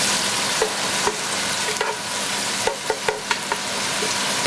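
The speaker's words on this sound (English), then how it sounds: "Give that a nice stir" Food stirred while frying in very hot coconut oil, a steady close sizzle with several sharp utensil scrapes and clicks against the pan, denser toward the end.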